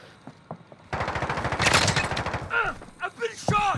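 Rapid bursts of video game gunfire crack in a loud, dense volley lasting a couple of seconds, with sparser shots before and after and voices talking over the action.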